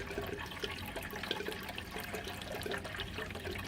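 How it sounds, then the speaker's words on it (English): Tap water pouring into a container for a Peri-Pro solution demo, a steady close splashing trickle that runs continuously without pause. "then I just put the water in there"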